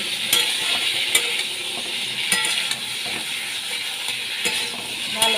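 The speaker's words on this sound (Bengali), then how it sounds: "ভালো করে আমি এখানে কষিয়ে নিচ্ছি" Elephant foot yam curry sautéing in a pan gives a steady, close sizzle, broken by occasional scrapes and clicks of a spoon stirring it, with no talk.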